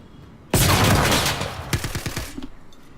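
Gunfire in the Star Citizen space game: a sudden loud burst of sustained fire, then a rapid string of separate shots that fade out, with no voices.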